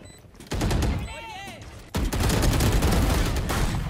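Gunfire in the video game Valorant, bursts of rapid shots, some through a wall, loud and dense, with a brief chirpy effect and a pause before heavy firing resumes and continues to the end.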